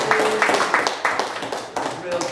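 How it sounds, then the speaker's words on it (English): A small quiz audience gives a brief round of applause, sparse irregular claps sounding near and close together, with people talking over them. "give him a little round of applause."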